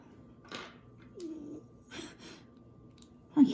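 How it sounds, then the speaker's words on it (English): A female house cat indoors makes a few faint, brief trilling chirps and soft vocal noises amid quiet rustling, ending with a sudden nearby clunk. "My cat, she makes all those noises."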